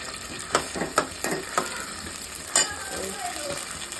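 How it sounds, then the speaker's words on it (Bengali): Tangra fish cooking with potatoes and eggs in a pan for a village-style dinner, giving a steady sizzle broken by several sharp stirring scrapes and clinks, close and moderately loud. "রাতের জন্য ট্যাংরা ট্যাংরা মাছ রান্না করতেছি ডিম আলু দিয়ে"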